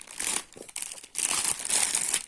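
A plastic bag wrapping an Italian Winx Club magazine crinkles in bursts close up, loud rustling handling with brief pauses and no speech.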